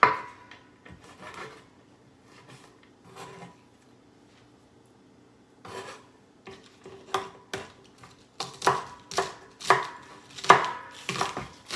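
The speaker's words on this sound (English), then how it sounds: "I'm cutting out the thyme." A knife chops thyme on a cutting board, sparse taps at first, then a quicker run of sharp, close knocks toward the end.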